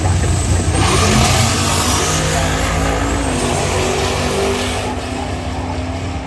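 Ford Falcon wagon race car with a turbocharged LS engine, a loud sustained roar of hard acceleration that holds close and steady before easing slightly toward the end.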